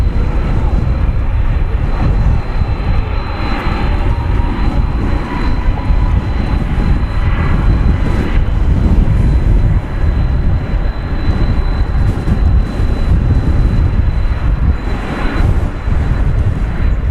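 An American Airlines jet departs runway 18 left at DFW Airport, a steady, loud, broadband jet roar that stays even throughout with little change, heard alone with no talk over it.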